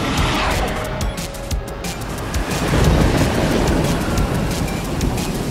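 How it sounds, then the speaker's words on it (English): Cartoon rain pours steadily and heavily with a low rumble of thunder rolling underneath, continuous and loud with no voices. "An acid rain comes from these clouds!"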